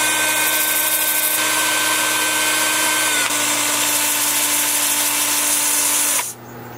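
A live-edge paper birch change dish is power-sanded, starting at 80 grit. A loud, steady, close whirring grind runs unbroken for several seconds, then cuts off abruptly near the end.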